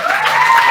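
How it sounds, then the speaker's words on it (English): Youth health conference audience giving a round of applause, a steady, dense wash of clapping at even loudness throughout the short moment. "maybe you might give a round of applause to yourself"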